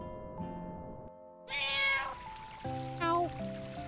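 A cat meows twice within Final Fantasy IX game audio, the calls loud and close over steady synthesized background music with no talk.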